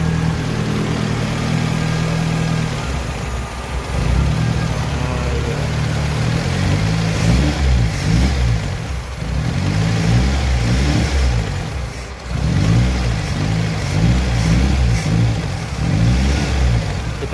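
A fuel-injected car converted to run on LPG gas revs its engine in repeated surges, the loud, close roar rising and falling with brief dips between bursts; no one speaks.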